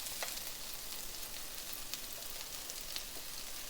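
Onions, green chili, ground ginger and garlic frying together in a pan, making a quiet, even sizzle with occasional faint crackles and pops, with no one speaking.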